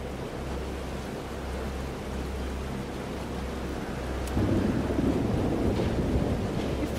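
Thunderstorm in Life is Strange Double Exposure, a steady roar of rain with a low rumble underneath that swells louder partway through, no voices.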